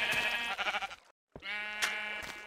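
Minecraft sheep bleat twice, close and clear, as two wavering nasal calls split by a short silence.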